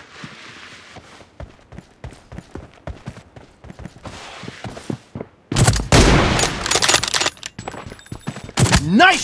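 M24 sniper rifle fire in a 1v1 room match of a shooting video game: sharp, separate cracks at first, then a louder, denser cluster of shots and impacts toward the end.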